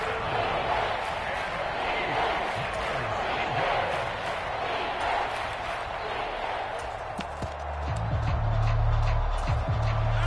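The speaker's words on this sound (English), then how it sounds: "the crowd getting into it as we come up on a big third down" A stadium crowd at a football video game roars in a steady, dense wash of cheering, with a low rumble swelling toward the end and faint voices mixed in.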